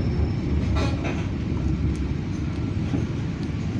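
The Pasundan passenger train rolls steadily along the rails between Kiaracondong and Lempuyangan, a continuous rumbling ride noise with faint rattles and clicks.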